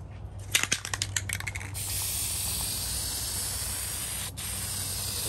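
Steady close spray hiss of hammered-finish paint being laid on thick over a 1950s Craftsman wall-mounted tool cabinet, preceded by a few short rattling bursts before one long continuous spray.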